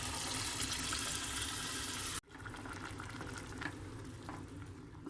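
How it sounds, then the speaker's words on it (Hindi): Black-eyed beans and their liquid pour into hot, sizzling masala: a loud, steady frying hiss that cuts off abruptly, then settles into a quieter, continuous bubbling sizzle. "अब मैं लोबिया ऐड कर रही हूँ यहाँ पे"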